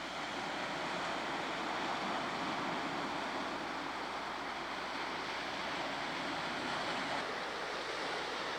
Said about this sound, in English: There's a little hollow here where the waves are crashing into the rocks, creating sprays